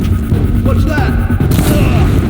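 A gunshot in the game Horizon Zero Dawn: a loud, booming blast lands midway through thick, rumbling game noise, close and heavy, with a voice speaking briefly underneath.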